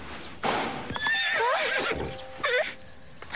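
A wild horse neighs in a long, loud, wavering whinny, followed by a shorter second whinny, with no talk over it.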